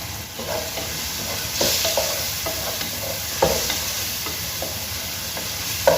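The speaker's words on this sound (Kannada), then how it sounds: "ಚೆನ್ನಾಗಿ ಫ್ರೈ ಆಗಿದೆ ಈರುಳ್ಳಿ ಟೊಮೆಟೊ" Chopped onion and tomato fry in a pan with a steady sizzle, broken by repeated scraping knocks of a spatula stirring, close and moderately loud, with no talking.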